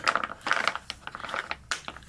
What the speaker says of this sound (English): I'm messing with my crayons over here, sorry for the noise.